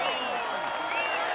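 Crowd applause and cheering for a cyclist at the Tour de France in a 2017 cycling video game: a dense, steady wash of clapping that runs through the brief moment, with a voice talking over it.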